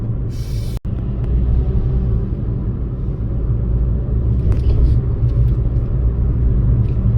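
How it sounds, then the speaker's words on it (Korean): Steady traffic rumble from cars driving on a busy mountain road near Bukhansan and a hanok village in autumn, a continuous low roar with passing vehicles and no talk. "차들이 굉장히 예, 많아요"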